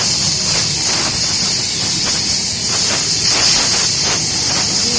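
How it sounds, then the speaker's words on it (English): A loud, steady hiss of escaping steam from a steam engine at a steam rally fills the whole stretch, with faint mechanical chuffing and rumble beneath it, close by. "Tractors were the smaller steam engines"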